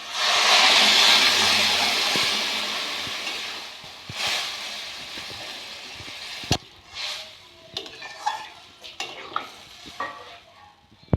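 Water poured into fried masala in a hot pan for a fish, potato and okra curry, bursting into a loud close hiss that fades over several seconds into scattered clinks and stirring knocks.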